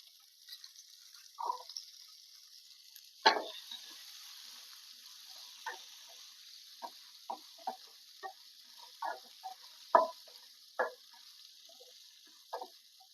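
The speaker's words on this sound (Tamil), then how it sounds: "சிம்மில் வச்சே வறுத்துடுங்க வெங்காயம் நல்லா வதங்கட்டும்" Small onions fry in a pan over low heat, giving a faint steady sizzle broken by scattered soft pops and crackles at irregular intervals.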